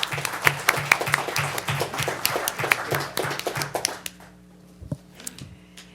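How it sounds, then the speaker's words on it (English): An audience at a city council meeting applauds with about four seconds of brisk clapping, which drops to a couple of isolated claps before the room goes quiet over a low hum. "So big round of applause for everybody."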